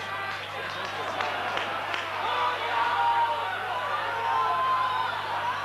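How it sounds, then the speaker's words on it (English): Rugby league crowd at a York versus Halifax match, a broad distant roar that swells gradually louder, with scattered clapping and a commentator's voice running over it. "Crowd are getting noisier and noisier"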